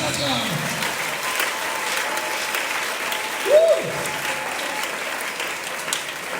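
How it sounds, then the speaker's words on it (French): A church congregation applauds together as a steady wash of clapping that fills the whole stretch evenly, with a brief louder swell near the middle. "On acclame d'abord, on acclame."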